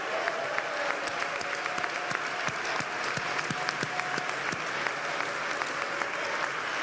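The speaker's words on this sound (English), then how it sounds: "Let's give all of them a big round of applause," A crowd at a Richmond State of the City address applauds city employees, with steady, dense clapping and sharp individual claps standing out over about seven seconds of moderately loud sound.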